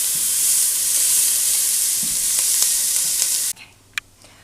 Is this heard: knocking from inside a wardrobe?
no